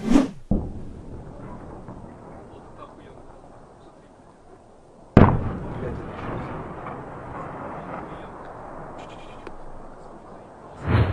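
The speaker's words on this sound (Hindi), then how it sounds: "अब रूस ने यूक्रेन के सूमी के इलाके में जबरदस्त बमबारी शुरू कर दी" Bombardment explosions in the Sumy region of Ukraine: two sharp, loud blasts about five seconds apart, each followed by a long rumbling roar, with a third burst near the end.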